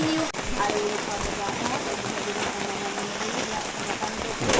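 Heavy rain pours down in a dense, continuous roar, with splatter on surfaces throughout and a faint sharp knock near the start.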